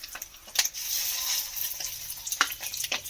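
Fish roe fritters, soft thin batter dropped into hot oil, frying with a steady bright sizzle and a few sharp pops and crackles over about three seconds, close by with no talking.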